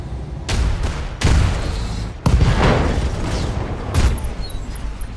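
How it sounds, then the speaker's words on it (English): An ammunition explosion aboard a BattleTech mech, with heavy booms and bursts rumbling in quick succession, loud and close, each blast trailing into crackling debris. "Ammo explosion."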